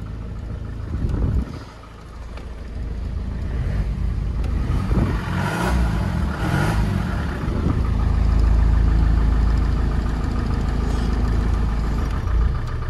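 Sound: diesel pickup truck engine running

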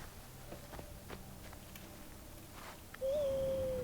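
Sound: owl hooting in the video game Far Cry Primal

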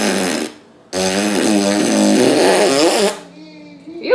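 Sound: fart sounds imitated with mouth

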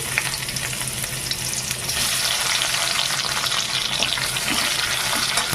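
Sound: chopped onion frying in oil in a kadai

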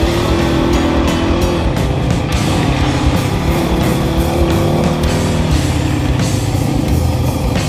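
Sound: car driving fast and sliding on slippery road

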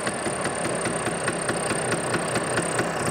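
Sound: vintage Vespa P200E scooter engine idling

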